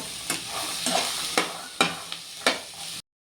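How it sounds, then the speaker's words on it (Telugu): Chickpeas fry in a pan under a steady sizzle while a spoon scrapes through them about five times in an uneven rhythm, close and fairly loud, before the sound cuts off abruptly. "ఇలా నాన్ స్టాప్ కలుపుతూనే ఉంటే అన్నీ మంచిగా వేగుతాయి అన్నమాట"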